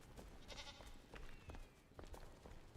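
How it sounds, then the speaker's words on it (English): Goat bleating in the video game Enshrouded, a few short bleats rising over a busy game soundscape with small clicks and ambient tones, moderately loud and without talk. "that goat, that poor little goat, he's always stuck on the step right there"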